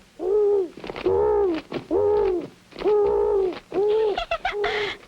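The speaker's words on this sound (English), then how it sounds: "It was a little bitty old owl." A small owl in a cartoon gives a run of five loud, close, cooing hoots in steady succession, heard alone.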